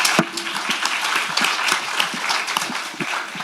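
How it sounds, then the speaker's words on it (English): A symposium audience at Yonsei University applauds steadily, a dense wash of many hands clapping together for a few seconds. "let's welcome with a big round of applause"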